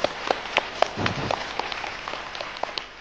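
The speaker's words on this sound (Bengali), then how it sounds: "একটা হাততালি হয়ে যাক সবার জন্য" Audience applause at a Bangladeshi televised Bengali-language competition show, scattered, uneven claps popping out of a soft room wash, moderately close and thinning out toward the end.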